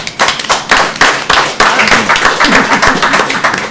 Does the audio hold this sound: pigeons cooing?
no